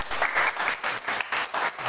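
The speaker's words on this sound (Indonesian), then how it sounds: "Tepuk tangan." Rhythmic clapping from a masked congregation during a Baptist church service held amid COVID, beating in an even unison pulse for about two seconds.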